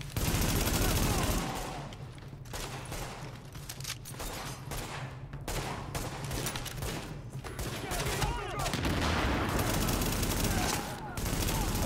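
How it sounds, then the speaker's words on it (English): Heavy gunfire in a rooftop shootout in Tom Clancy's The Division, loud sustained automatic bursts and rapid shots that fill the scene with only brief lulls, with a voice talking over the firing. "The escort party's taking heavy fire from the roof."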